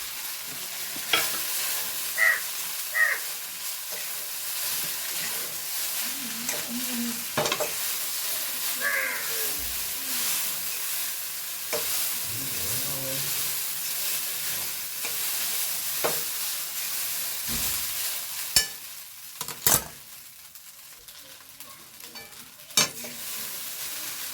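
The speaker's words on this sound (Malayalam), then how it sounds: "ഇളക്കി കൊടുക്കാട്ടോ" Food frying in a pan with curry leaves is stirred repeatedly, giving a steady sizzle with scraping and clinking of the spoon against the pan throughout.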